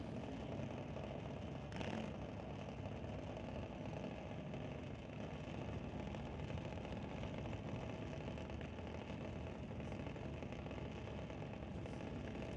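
Drag racing car at the line during a Doorwarz 12 event after a refire, its engine idling in a steady, loud rumble, with one brief throttle blip near the start.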